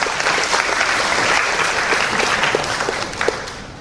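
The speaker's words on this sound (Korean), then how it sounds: "이때 박수 한번 쳐야 돼요" Lecture-hall audience applauds, a steady wash of many hands clapping close and loud, tapering off toward the end with a few louder claps.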